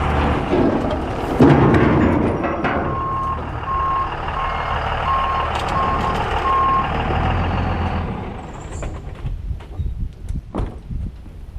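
A truck's reversing alarm beeps in a steady, evenly spaced series over a loud, rumbling diesel engine hauling heavy scrap steel on a 40-ton scrap metal job, then the engine noise drops away near the end.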